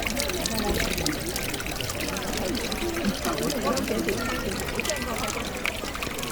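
Spring water from Mount Fuji pours and splashes continuously at a public fountain spout, a dense, steady rushing stream close by, with voices talking and noise from the crowd around.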